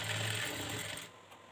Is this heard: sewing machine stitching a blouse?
yes